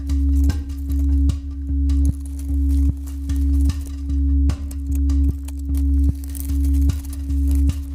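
Metal detector giving a repeating electronic signal tone during a WWI-era relic and coin hunt, a steady pulsing beep sounding about ten times in a regular rhythm, loud and close with no talking.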